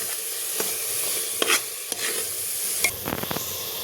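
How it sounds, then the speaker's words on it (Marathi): A spoon stirs red chili powder, turmeric and coriander powder through hot oil in a pan, with scattered scraping clicks and a soft sizzle underneath, close and without talk. "लाल मिरची पावडर, हळद. हे छान आपल्याला आता मिक्स करून घ्यायचं आहे."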